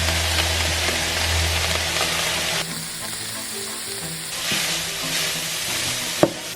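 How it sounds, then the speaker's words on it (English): 800 grams of ground beef frying in a pan over medium-high heat, a loud continuous sizzle with shifting intensity and a sharp clink near the end, no talking. "800 grams of ground beef in a pan over medium-high heat"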